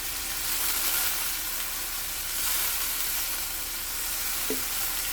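Squid sizzles loudly in a hot pan after soy sauce is poured in for adobong pusit, a steady, close, bright frying hiss with no talk.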